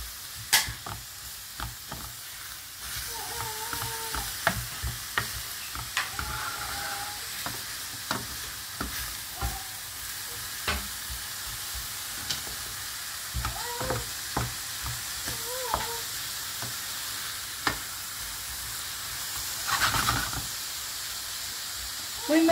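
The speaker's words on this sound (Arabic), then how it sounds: "غادي نخلي تهبط لي البصله ديالي تتشحر لي مزيان" Sliced onions and peppers fry in a pan, giving a continuous soft sizzle broken by frequent clicks and scrapes from a stirring spoon, close and moderately loud throughout.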